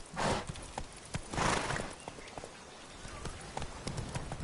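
Roach the horse gallops in a video game with hooves clip-clopping steadily, punctuated by two louder breathy bursts of snorting or blowing near the start, and the rhythmic thuds continue.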